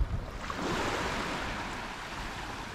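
Gentle ocean waves wash continuously at La Caleta beach in Cádiz, Spain, on a morning walk, with a soft, steady surf hiss and a faint thump at the start, no talking.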